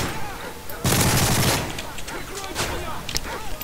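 Rapid automatic gunfire from Call of Duty: Modern Warfare 3 survival mode, a dense, loud burst of shots lasting under a second, followed by scattered game sounds and talk.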